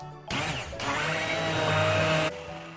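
A blender whirs loudly for about two seconds, churning banana, apple, dates and milk into a smoothie, starting with a rough chop and settling into a steady motor drone.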